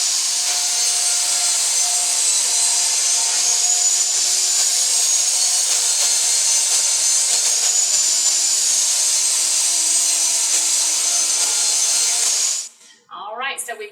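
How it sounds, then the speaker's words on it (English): Power saw steadily cutting a wooden shelf for a small storage cabinet, a loud continuous whining roar that holds for about twelve seconds, then cuts off abruptly, followed by a brief voice. "We're going to go ahead now and cut us a shelf to put in this cabinet."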